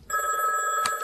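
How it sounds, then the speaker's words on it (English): An old-style telephone bell rings loudly and close at hand in a short continuous burst, with no voices over it. "It's been calling all night. Just unplug the phone."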